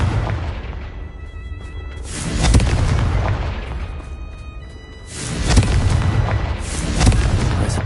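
Repeated Confringo fire spell blasts in Hogwarts Legacy burst out as loud booming explosions, three main bursts a few seconds apart, each fading into a crackling rumble.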